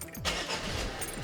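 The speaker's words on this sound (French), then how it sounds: "je te remets de ce pas le contact" A car engine cranks and catches after its engine bay has been washed with water, a brief, close starter whir rising into a running rumble.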